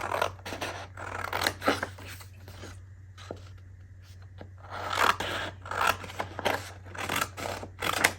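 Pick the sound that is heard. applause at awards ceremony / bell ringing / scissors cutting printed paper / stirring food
scissors cutting printed paper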